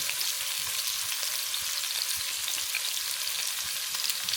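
Onions sautéing in a big soup pot for a detox soup, giving a steady, dense hiss and crackle that holds at an even loudness with faint stirring scrapes underneath and no voice.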